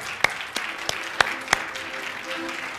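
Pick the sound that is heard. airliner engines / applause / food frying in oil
applause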